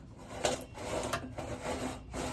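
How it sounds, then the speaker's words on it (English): A brand-new ball-type cutter works through a metal exhaust pipe on a 2021 VW Tiguan, giving a steady scraping rasp with rhythmic strokes, close and moderately loud, with no talking. "these little balls, these little cutter things, will cut through the metal"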